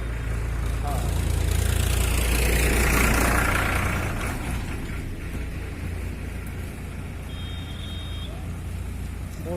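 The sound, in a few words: motorcycle engine idling at police checkpoint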